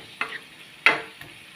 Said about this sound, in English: Lagay natin yung sauce. Oyster sauce, soy sauce, and lemon.